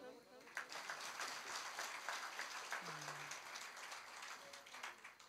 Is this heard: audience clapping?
yes